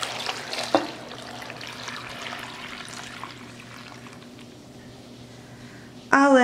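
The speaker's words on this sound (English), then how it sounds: "To this mixture, I'll add in 4 cups of water." Four cups of water poured into beef stew in a crock pot set on high, a steady close splashing that trails off and ends with a brief sharp clatter.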